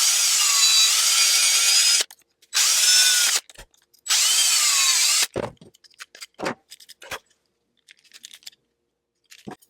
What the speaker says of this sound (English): I need to remove more of the plastic there. So I will drill right there.